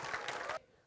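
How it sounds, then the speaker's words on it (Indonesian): A short burst of audience applause in a TV studio game show, dense clapping lasting about half a second before cutting off abruptly to near quiet. "tepukan untuk mereka"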